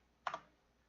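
A single quick keystroke on an Apple II computer keyboard, a faint, close double click standing alone in near silence.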